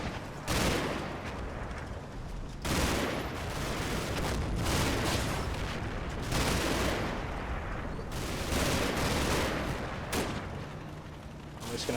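Sustained gunfire in a combat strategy game as an assault team and machine-gun team pour fire onto the front of a house, dense overlapping bursts and rumbling volleys at a moderate distance, with a voice talking over them.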